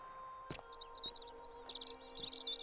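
Birds chirp and tweet in a video game set in an ancient city, with bright, busy calls rising over a steady ambient hum and a few soft low thuds, fairly loud and continuous in the latter half.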